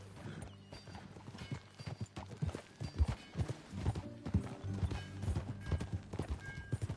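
Horse hooves clip-clop at a walking pace in a video game, with irregular thuds of footfalls on the ground, soft and fairly close, plus a faint whinny and background ambience.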